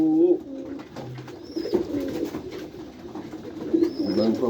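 Pigeons coo softly and repeatedly close by inside a white pigeon loft, with a few brief higher bird calls and some faint background movement.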